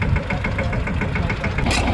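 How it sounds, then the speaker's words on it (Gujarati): A tractor engine running steadily nearby while spraying pesticide in a field, a close, loud, even chugging with a regular knocking pulse and a brief hiss near the end. "ટ્રેક્ટરથી દવા છાંટવાનું ચાલુ છે"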